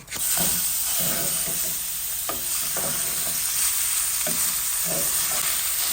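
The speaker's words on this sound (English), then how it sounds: "Now I have some ground beef that I'm going to add to my skillet." Ground beef sizzles loudly in a skillet with a constant dense crackle, broken by several scraping stirs and soft utensil knocks at irregular intervals, close and alone without talking.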